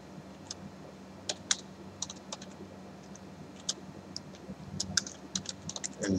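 Fingers tap a keyboard in bursts of quiet, crisp clicks with uneven gaps and a quicker flurry toward the end, heard alone in a quiet room while a program's input values are entered.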